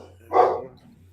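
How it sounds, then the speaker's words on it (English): A single short bark from a nearby dog, one muffled burst over a steady low electrical hum in an indoor workspace. "And my dogs are making all kinds of racket."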